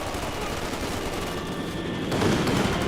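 Panzer Grenadier infantry firing in the strategy game Company of Heroes 2, a steady, dense rattle of rifle and machine-gun fire with background battle noise that swells slightly near the end.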